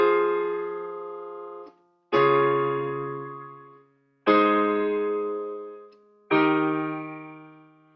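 Four sustained piano chords, each struck cleanly and left to ring and fade before the next, at a slow, even pace with no other sounds.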